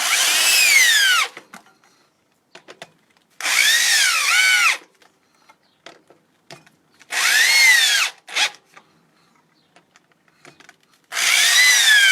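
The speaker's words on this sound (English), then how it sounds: "I take this faceplate and I screw that into the wood" A power drill drives screws to fix a faceplate into a wood blank for lathe turning. Four loud, close whirring bursts rise and fall in pitch, separated by quiet gaps with faint handling knocks, and no one speaks.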